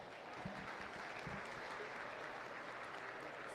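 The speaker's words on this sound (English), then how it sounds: "Give them a nice round of applause." An audience at a county fair livestock arena show applauds in a steady, even wash of clapping that holds for several seconds, moderate in level and somewhat distant, with no talk over it.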